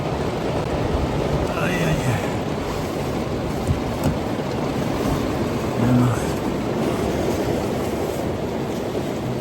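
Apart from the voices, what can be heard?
heavy rain at a campsite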